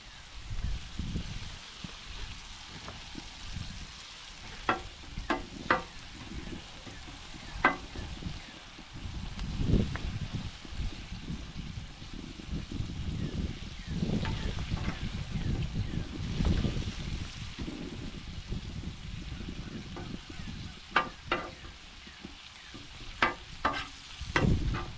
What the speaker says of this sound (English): Now it's time to add a little butter and a little bit of onion.